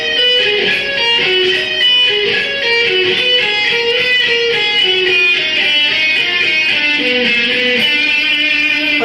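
Fast distorted electric guitar arpeggio section played with down strokes and pull-offs in a shredding style, a dense, continuous loud run of notes with no pauses.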